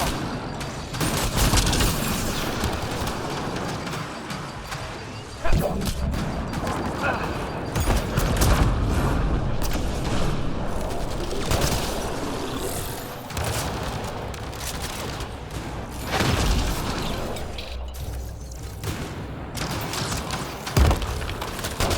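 Turrets in the Mass Effect Andromeda video game fire continuous bursts of gunfire with scattered booming impacts, loud and close. A battle din runs throughout and brief voices can be heard in it.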